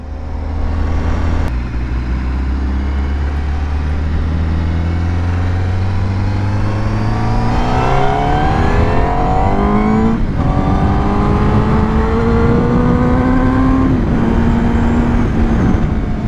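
A Honda CBR1000RR-R superbike accelerates hard, its engine note climbing steadily in pitch through several gear changes, loud and close, with a brief drop in pitch at each shift.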